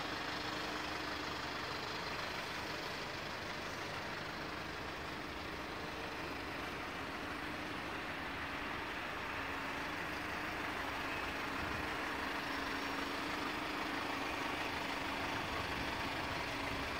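A 2012 Hyundai Porter 2 truck with manual gearbox idles steadily in Incheon, South Korea, a constant low engine rumble with a hum running unbroken throughout, with no talk.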